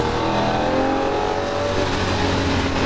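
A Lamborghini Murcielago LP640 runs at full throttle on the Las Vegas Speedway, its engine roaring loud and continuous with a rising, strained tone.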